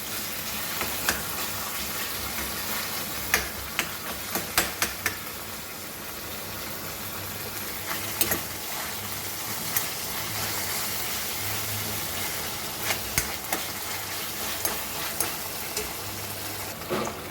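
Garlic paste and fennel seeds frying in a pan for Goan cauliflower bhaji, a steady broadband sizzle with scattered sharp crackles and occasional stirring clicks, close and continuous with no talk.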